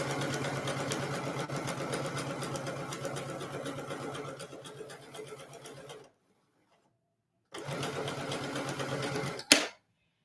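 A sewing machine runs continuously for about six seconds stitching bias-cut fabric pieces at a short 2.0 stitch length, pauses, then runs again briefly before a sharp click, loud and close with no talking.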